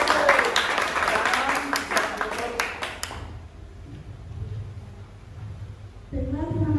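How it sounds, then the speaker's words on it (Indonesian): A classroom group claps for their presentation, a dense burst of applause that fades out after about three seconds, followed by quiet room noise and then a voice speaking near the end. "beri aplaus untuk presentasi dari kelompok 1"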